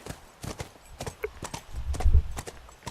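Hooves clip-clop in an irregular walking rhythm from a horse in the video game The Last of Us, sharp close hits over a quiet background.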